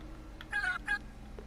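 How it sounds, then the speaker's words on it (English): A Trailmakers video game build gives two short synthetic meows in quick succession, clear and isolated over a quiet background. "And obviously it meows"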